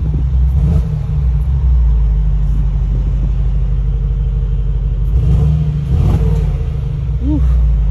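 A 2021 Mercedes-AMG G63 G-Wagon SUV engine rumbles deeply at close range, its revs swelling louder around the middle before settling back to a heavy, steady throb.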